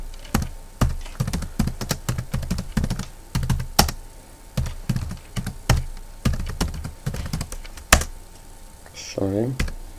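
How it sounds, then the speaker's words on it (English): Keys clatter in quick irregular bursts on a computer keyboard as a command is entered into an Ubuntu terminal, close and crisp, with brief pauses between runs of keystrokes and a short voice near the end. "you must open a terminal and type the following command"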